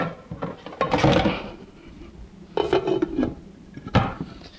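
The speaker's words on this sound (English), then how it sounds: "Now I'm going to just put a top on this." A lid set onto a pot of simmering vegan chili on a home stove, giving a few close metallic clanks and knocks with short pauses between them.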